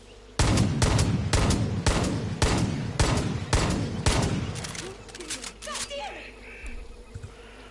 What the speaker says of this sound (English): Then you have the very heavy pistol.